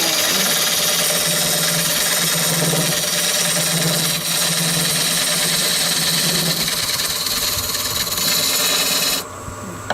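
A skew chisel cuts a recess into a natural-edge oak crotch bowl, giving a steady, close rasping scrape that runs almost unbroken before cutting off near the end.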